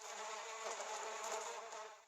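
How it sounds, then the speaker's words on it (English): Cartoon bee buzzing in an animated story about a bumblebear, a steady, continuous insect drone that stays loud and close before fading slightly at the end, with no talking. "Then Norman joined in with buzzing practice"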